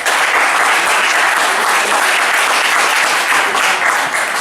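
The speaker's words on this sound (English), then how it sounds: "Applause, please." Dense, steady applause from a stand-up comedy open mic audience, loud and close, sustained evenly for several seconds with no talking over it.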